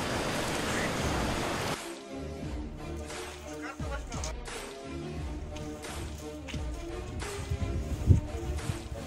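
Sea waves wash against the wintry shore at Cape Kolka in Latvia, a soft continuous surf hiss that follows a brief louder rush, with someone speaking over the water.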